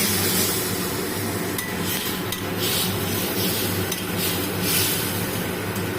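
A spoon stirs spiced masala with a splash of water, cashews and melon seeds in a pan for stuffed pointed gourd, a steady scraping and soft simmering hiss with occasional light clinks of metal, close and continuous.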